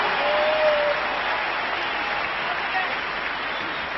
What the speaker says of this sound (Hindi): आप जोरदार तालियों से इनको स्वागत कीजिए।